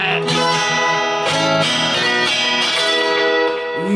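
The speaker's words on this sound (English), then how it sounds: "you get what I call a string ringing syndrome" Lap steel guitar strings ring on unwanted, producing a dense, sustained wash of overlapping tones and sour harmonics that blur together without clean separation.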